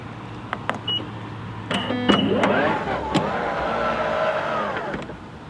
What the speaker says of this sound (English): Tesla Offer open sound.